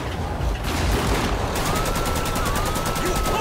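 Rapid gunfire rattles from a drug dealer in GTA 5 during a Los Angeles street-life drive, with a steady stream of shots over a constant busy game backdrop.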